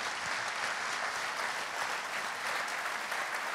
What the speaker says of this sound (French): Veuillez applaudir Ophélie